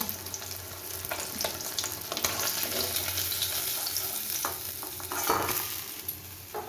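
Pieces of aar fish slide into hot oil in a home kitchen pan, giving a steady, close crackling sizzle that swells and pops irregularly, with faint clinks and watery sounds and no talk.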